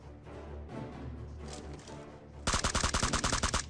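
Gunfire in PUBG Mobile on the Livik map, with a Kar98 rifle involved: softer game ambience first, then a loud, rapid burst of about a dozen evenly spaced automatic shots closing the clip.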